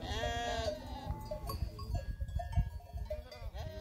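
A flock of soaked ewes huddled together in a pasture net pen bleat repeatedly, overlapping calls near and far, with a rustling outdoor background and no talk.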